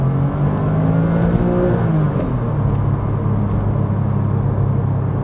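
A Porsche Boxster S engine revs through downshifts on the road, rising and falling tones over a loud steady rumble and road roar heard from inside the car.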